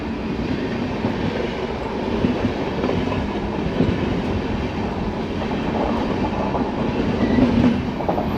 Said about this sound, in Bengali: আমাদের ট্রেনও ছেড়ে দিয়েছে মনে হয়